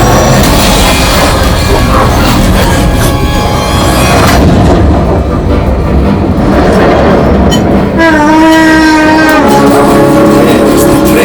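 Loud train rumble and rail clatter heard as a sound effect inside the Millennium Falcon: Smuggler's Run ride, mixed with booming blasts, crashes and dense ride effects throughout.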